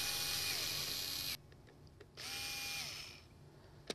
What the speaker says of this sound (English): is going to remove this last face mask clip with the drill